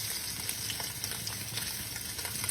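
Short ribs browning in a pan for braising, a steady, dense sizzle and crackle of frying meat heard up close, with no voices.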